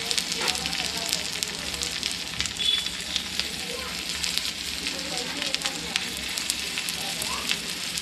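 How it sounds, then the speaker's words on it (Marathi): A chicken piece fries in oil on a very hot tawa over a gas flame, giving a steady, dense sizzle with a faint crackle that runs unbroken from start to finish. "आणि आता आपण एक चिकनचे पीस सोडून घेऊयात."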